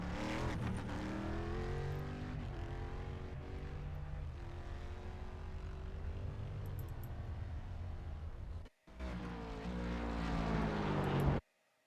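A Corvette C7 race car at Mosport roars loudly at high revs through gear changes, its engine sweeping up and down before a brief cut and another burst, then it stops.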